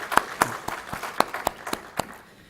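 A church congregation claps in a sparse, uneven way, a few distinct claps ringing out in a reverberant sanctuary and thinning toward the end, with no voices.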